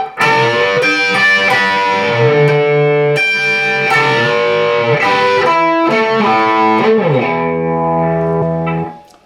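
A distorted electric guitar plays a lick with bent notes and sustained chords, loud and steady, then fading out at the end.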